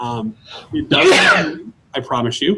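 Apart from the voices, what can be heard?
sneeze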